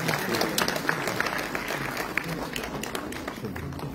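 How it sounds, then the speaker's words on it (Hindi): Audience applause at a Jashn e Sangam stage function for the Lieutenant Governor, with a steady wash of clapping from a seated crowd and occasional sharper claps standing out, sustained evenly throughout. "जोरदार तालियां।"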